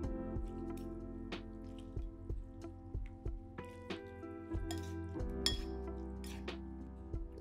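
Sugar, vinegar with chili, chili oil and fish sauce being stirred together in a dish give soft, irregular clinks and wet squishy taps of utensil against crockery, close and quiet, with no talking.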